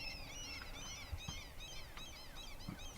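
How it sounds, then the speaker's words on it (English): Seagulls or oystercatchers calling from a distance near a moored boat, a run of repeated sharp, rising-falling cries in quick bursts, with a few low thuds and faint background noise beneath. "Sounds like either seagulls or maybe oyster catchers over there"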